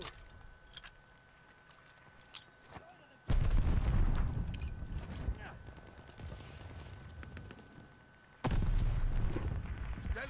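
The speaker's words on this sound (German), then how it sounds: "Stellung ist unter Beschuss." Gunfire from a position under attack in Call of Duty: Vanguard, on the radar map in a 7v7 match. Dense bursts of shots and booms rise sharply partway through, drop back, then surge again near the end, loud against a background game drone.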